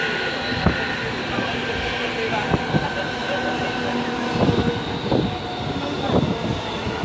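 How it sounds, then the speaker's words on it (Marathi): Inside a nearly empty moving train, a low rolling rumble carries on with a few sharp clacks and thumps from the wheels and carriage, moderately loud and without voices. "किती मोकळी ट्रेन आहे."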